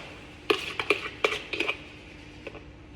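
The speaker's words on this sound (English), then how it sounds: "So we get all that sugar, all that raspberry out of the container and straight into the pot." Several quick clinks and scrapes of a utensil against a container and pot as sugar and raspberries are scraped into the pot for a coconut raspberry soda, clustered in a short burst then one last tap, close and fairly quiet.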